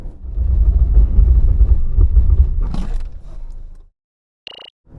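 A Mercedes-Benz GLC 300 4MATIC brakes hard on a road test. Loud road and tire rumble builds and then fades out with a brief scrape. After a moment of silence comes a short, high squeal.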